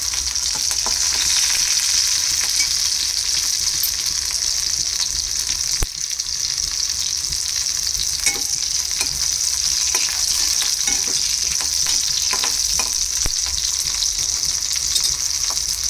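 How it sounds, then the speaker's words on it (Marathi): Garlic and chopped green chilies fry in hot oil for methi sabji, a loud, continuous, crackling sizzle that holds steady throughout, with a few faint clinks and scrapes of stirring and no voices. "लसूण थोडासा लालसर झाला की त्याच्यामध्ये जे आपण मिरची चिरलेले आहेत ते टाकायचे आहेत"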